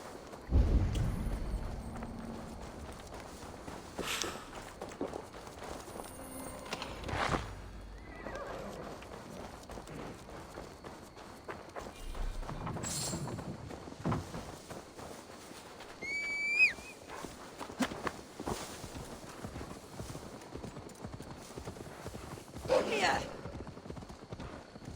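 Horse hooves clop at a walking pace under Assassin's Creed Valhalla music and ambience, with a horse snorting and whinnying now and then.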